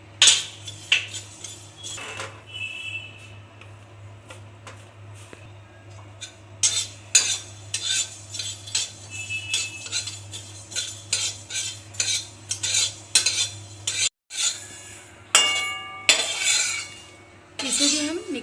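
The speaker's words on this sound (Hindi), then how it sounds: "हमने इसमें कलौंजी डाला है और इसे भी भुनेंगे।" Nigella seeds (kalonji) being dry-roasted for mango pickle, stirred with a metal spoon in a pan: repeated scraping and clinking strokes in irregular bursts over a steady low hum, fairly close, with no talk.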